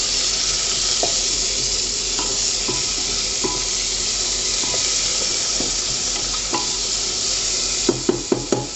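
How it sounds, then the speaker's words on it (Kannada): Onions frying in a pan during cooking in Goa, a steady close sizzle throughout with occasional light stirring scrapes and a short cluster of sharper utensil taps near the end, no voices. "ಈರುಳ್ಳಿ ಬ್ರೌನ್ ಆಗೋವರೆಗೂ ಫ್ರೈ ಆಗಲಿ"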